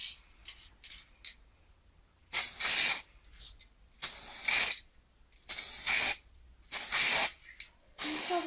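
Aerosol spray can painting cosplay armour hip guards silver, in five separate hissing bursts of about a second each with short pauses between, close and fairly loud, with faint clicks and small handling noises in the gaps.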